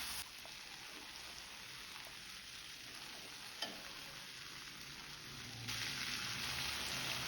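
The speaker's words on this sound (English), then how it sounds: "add 3 to 4 medium sized tomatoes" Three to four medium tomatoes cook in a pan for a mixed vegetable curry, giving a steady, close sizzle with light stirring scrapes that grows slightly louder near the end.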